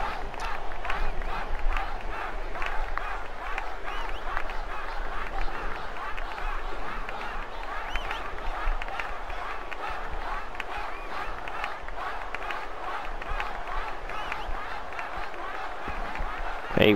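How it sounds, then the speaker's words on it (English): Video game football crowd chanting, a dense continuous stadium roar with rhythmic pulsing chants at steady loudness throughout, heard alone with no speech over it. "You hear them chanting for Waka."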